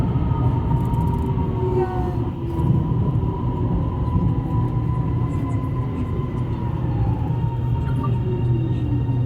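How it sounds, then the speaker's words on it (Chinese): A metro train rolls into a station with a loud continuous rumble, rising and falling wheel squeals and steady hum close by; no talk is heard over it. "列车即将到达头福西站，请小心列车与站台之间的空隙"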